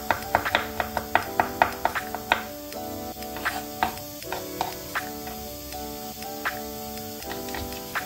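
Chopped onion and leek sauté in a pan for a chicken pie filling, a soft steady sizzle running under repeated clicking taps of a utensil against the pan.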